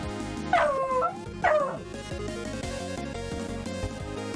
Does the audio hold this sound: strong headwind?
no